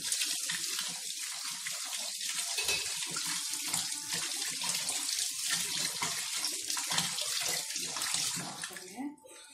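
Tap water pours steadily and close by as a kitchen strainer is rinsed under it, a continuous splashing rush that fades slightly near the end.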